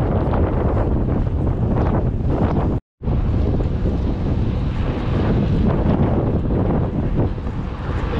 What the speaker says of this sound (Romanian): rafalele de vânt, care mă fac să merg ca un om beat